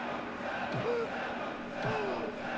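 Looping crowd chant from the PS1 wrestling game ECW Hardcore Revolution, a flat, repetitive murmur of voices with two rising calls that repeat at an even rhythm.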